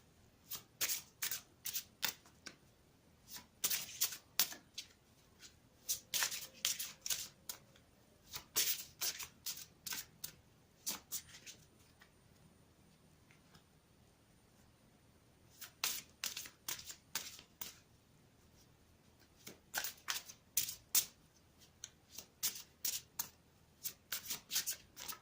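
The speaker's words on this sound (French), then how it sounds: "je vais continuer à battre les cartes" Tarot cards being shuffled by hand in bursts of quick riffling flutters, close and crisp, with pauses of near silence between the bursts and no talking.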